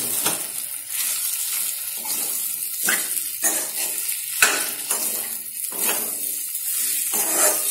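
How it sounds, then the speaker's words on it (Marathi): Sabudana khichdi being stirred in a pan over a low flame, giving a steady sizzle with repeated scraping strokes of the spoon throughout, close and fairly loud, with no talking. "याला कमी फ्लेमवरच आधी मिक्स करून घ्यायचं."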